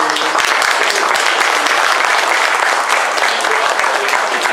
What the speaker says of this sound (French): Déjà, on peut les applaudir